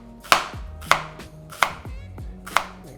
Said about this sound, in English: We'll also be adding nice thin slices of the shallot right there.